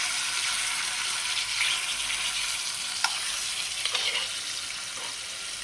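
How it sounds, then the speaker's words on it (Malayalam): Sardines coated in ground masala dropped piece by piece into boiling coconut oil, giving a loud, close, continuous sizzle with a few sharp spattering pops along the way. "ഇനി അതിലേക്ക് നമ്മൾക്ക് അരവ് പിടിപ്പിച്ച് വെച്ച മത്തി ഇട്ട് കൊടുക്കാം."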